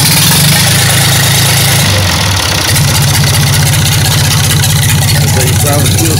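A 1990s-or-older diesel tractor engine cranks and then settles into a loud, steady, close-up idle after its fuel system has been primed, with a heavy low rumble and a rapid even chug throughout.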